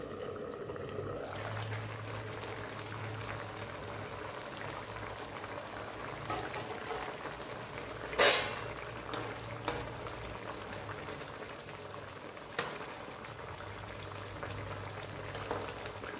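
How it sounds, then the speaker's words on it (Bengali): Rui fish egg fritters go into a simmering Bengali curry, which bubbles steadily with a soft boiling hiss throughout, broken by a few sharp clinks of a utensil against the pot. "এবার এর মধ্যে এই বড়াগুলো সব দিয়ে দেবো।"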